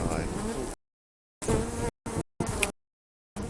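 Bees buzzing inside a beehive as a dense, steady hum, loud and close, broken by abrupt gaps where the sound cuts out entirely.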